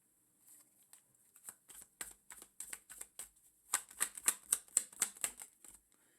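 Tarot cards being shuffled close up: a quick run of crisp flicking clicks that grows denser and louder toward the end, with no talking.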